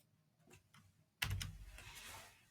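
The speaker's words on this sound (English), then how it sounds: "I'm just going to type these in" Quick keystrokes on a computer keyboard entering parentheses, a few soft taps at first and then a denser, louder burst of clicking that carries on to the end.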